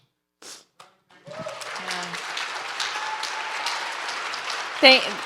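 An audience breaks into applause at a FearLESS Living BOSS 2023 presentation, a sustained wash of clapping that starts after a short pause and holds steady, with a brief whoop near the end.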